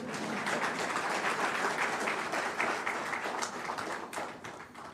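A university lecture audience at the Cave Hill campus applauds continuously, a dense, steady wash of many hands clapping at even loudness throughout, with no voices standing out.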